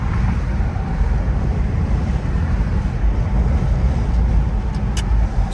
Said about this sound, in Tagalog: Kaso malakas ang hangin.